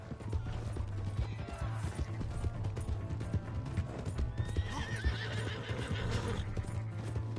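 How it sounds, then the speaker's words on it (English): In a video game, a horse's hooves clop steadily throughout while it lets out a loud neigh partway through, over a low droning background. "That's my horse!"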